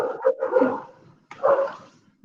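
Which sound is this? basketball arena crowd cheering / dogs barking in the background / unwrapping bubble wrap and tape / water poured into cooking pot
dogs barking in the background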